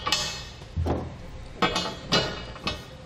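Two-inch carriage bolts drop into Reese custom base rails on a 2015 Ford F-250 pickup bed, making four sharp metallic clanks spaced about half a second apart, each followed by a short ringing rattle.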